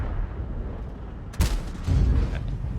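A tank cannon fires in a World of Tanks-style video game, one sharp boom at mid-clip followed by a rumbling tail over a low engine drone, with no talk.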